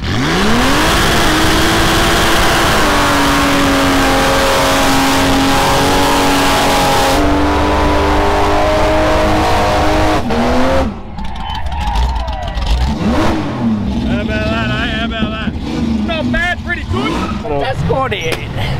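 A car, plate BLO202, doing a burnout on Summernats skid row: a loud sustained engine roar with rising and falling revs and tyre squeal, voices talking over it, with a sudden drop in tone midway.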